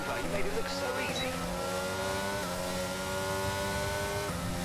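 Race car engine from an F1 racing video game, a steady high-pitched whine holding pitch with gear-shift steps during an overtaking battle, played continuously and loud.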